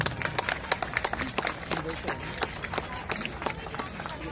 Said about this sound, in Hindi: राफ्टिंग टीम का तालियों की गड़गड़ाहट के साथ स्वागत करें